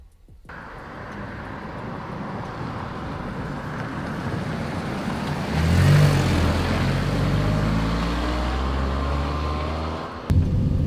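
A Mitsubishi Colt's 1.1-litre three-cylinder engine idles with a steady low exhaust rumble, close and continuous, swelling slightly partway through before settling, with a sharp knock near the end.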